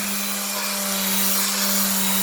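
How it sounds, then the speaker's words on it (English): Continuous sanding of rust off a vintage railplate, a steady abrasive hiss with a constant motor hum, close and loud with no pauses. "We're sanding down this plate to clean it."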